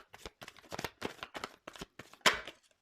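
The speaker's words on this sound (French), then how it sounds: "Enfin, je tire pas, je fais sauter les cartes." A tarot deck being shuffled so cards jump out, giving a quick series of crisp riffling bursts, close and fairly quiet, with one sharper flurry near the end and no talk.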